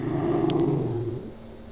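A dog gives a low, rumbling growl up close, one sustained throaty sound lasting about a second before fading, with no talk over it.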